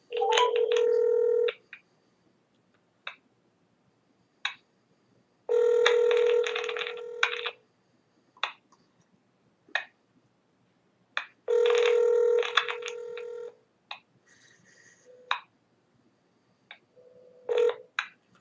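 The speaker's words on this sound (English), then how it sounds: "this is the number I'm dialing" A telephone keypad dials a number, producing three long bursts of touch tones and many short single beeps spaced through quiet gaps, loud and close.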